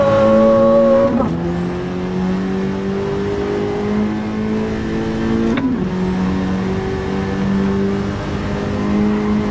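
Toyota Supra engine in the racing game Gran Turismo 7, a loud close onboard drone that climbs steadily in pitch through the gears, with two sharp upshift drops before revving up again.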